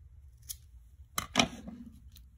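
A pair of scissors snips off the excess on a cardboard festive wreath during a craft project, with two or three quick, crisp cuts close by in a quiet room.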